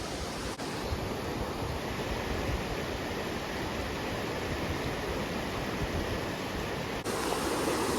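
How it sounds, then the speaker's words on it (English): Steady, full rushing of the Virgin River flowing in Zion, a constant broadband wash of moving water heard up close with no breaks and no voices. "And that water's moving now."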